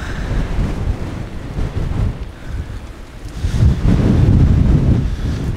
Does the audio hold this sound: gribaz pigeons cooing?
no